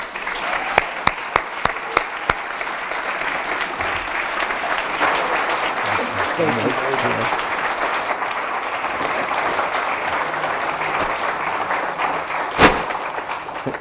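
Audience at the Kansas City Public Library applauds to welcome Crosby Kemper home, a few loud opening claps swelling into steady, full applause from a crowd that carries on for over ten seconds, with a brief thump near the end.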